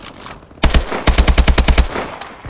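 Rapid bursts of automatic gunfire in Call of Duty: Advanced Warfare: a short volley, then a longer, evenly paced string of loud, sharp shots close by, with no talking.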